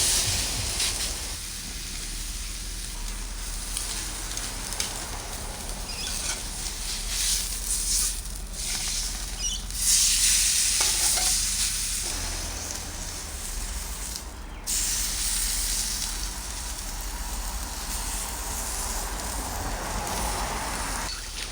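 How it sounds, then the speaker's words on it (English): Venison seared in a hot pan, all sides and ends browned, gives a steady broadband sizzle and hiss running throughout, fairly close and continuous with brief louder spurts, no talking. "the main thing when I put on the first sear is I want to try and get all different sides of it"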